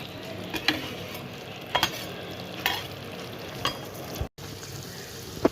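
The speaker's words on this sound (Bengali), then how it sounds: "মশলার গন্ধটা যতক্ষণ না কাটছে ততক্ষণ অবধি আমি এটাকে কষিয়ে নেব।" A spice mixture sautés in a pan for a Bengali hilsa fish head and banana flower ghonto, with a continuous frying sizzle broken by regular scraping stirs of a spoon and a short gap near the end.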